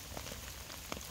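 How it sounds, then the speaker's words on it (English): Steady rain pattering on a small bivvy tent, an OEX Phoxx 1, pitched in a wet forest, a close, even patter with a few louder drops and no voices. "It's still raining outside"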